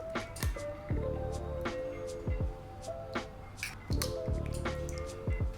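Soft wet squishes and drips come from egg yolks being separated from the whites in a kitchen. There are several short bursts with quiet pauses between them.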